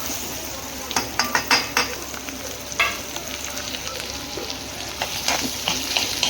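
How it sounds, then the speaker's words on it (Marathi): Boiled potato pieces stirred into frying masala in a pan, a soft continuous sizzle with repeated scraping and clinking of a spoon against the pan, no voices. "चांगलं हलवून घेऊ. सगळं मिक्स करून घ्यायचं त्याच्यात छान असं."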